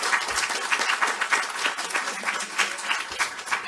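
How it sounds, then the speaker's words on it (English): Audience applause for panelists at a policy forum on the ACA individual market, a steady wash of many hands clapping with no talk, fairly close and sustained for the whole stretch. "Let's give a round of applause to our panelists."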